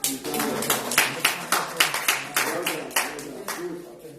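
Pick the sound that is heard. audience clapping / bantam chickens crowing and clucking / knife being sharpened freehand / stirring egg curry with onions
audience clapping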